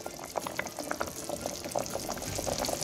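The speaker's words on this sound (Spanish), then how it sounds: "Tenemos 20 minutos ya hirviendo nuestro cerdo." Pork simmers in a pot of boiling water for Peruvian arroz con chancho, a soft, steady bubbling with small pops and gurgles throughout, fairly quiet and close.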